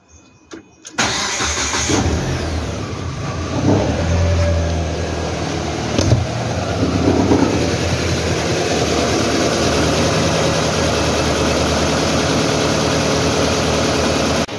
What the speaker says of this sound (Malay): So kita try start kereta.